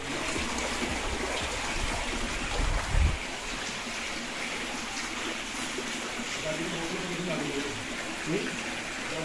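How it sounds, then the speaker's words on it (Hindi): Hot spring water issuing from between mountains in Kashmir, a steady broadband rush and trickle running throughout at moderate level, with a brief low thump near the start. "पहाड़ के बीच में से जब पानी आ रहा है तो वही पानी यहाँ से एक हॉट स्प्रिंग करके यहाँ से पानी निकल रहा है"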